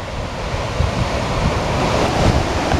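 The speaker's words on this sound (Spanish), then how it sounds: "Pedazo de olas, eh." Large ocean waves breaking steadily on the Portuguese coast near Vila do Conde, a continuous loud roar of surf mixed with heavy wind buffeting the microphone.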